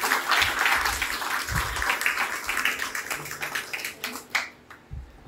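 A church congregation claps together in praise, a dense patter of many hands that thins out toward the end, with little talk over it.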